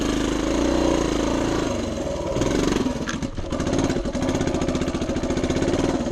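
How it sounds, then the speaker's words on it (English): A 1976 Honda TL250 vintage trials motorcycle runs with a loud, close, steady single-cylinder thump, then briefly stumbles as if stalling before picking right back up into its even beat. "it basically stalled, but with the inertia of the motor, it just starts right back up."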